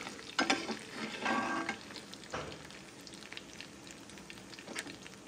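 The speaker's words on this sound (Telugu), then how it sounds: "పోపు వేస్తున్నామండి." Mustard seeds and spices tempering in hot oil for a ridge gourd chutney give off uneven crackling sizzles with a few louder pops early on, close and moderately quiet, with no one talking.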